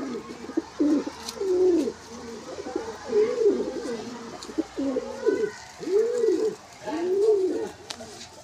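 Caged pigeons of a Palsa line, including a hen, coo in repeated rising-and-falling phrases close by, with short pauses between calls and faint background sounds.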